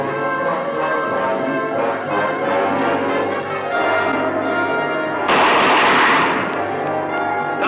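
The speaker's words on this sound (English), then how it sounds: "Those bullets bounce off like baby shot on a stone wall" Gunfire aimed at a monster in the Venus Flytrap film rings out as a short, loud burst of shots that cuts in over a sustained orchestral score, then fades back under the music.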